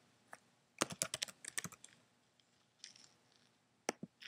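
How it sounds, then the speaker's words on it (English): Quick bursts of keystrokes on a computer keyboard as a user ID and password are entered, close and fairly quiet, with a dense run of clicks followed by a pause and a few scattered taps. "So I'm going to put in my user ID and my password"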